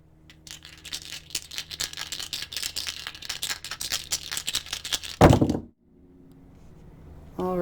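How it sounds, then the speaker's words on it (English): Dice rattle and clatter in quick, uneven bursts for several seconds, then a sharp knock and quiet, with a soft noise at the end. "I'm going to do some tarot dice, and they're awfully loud when I shuffle them"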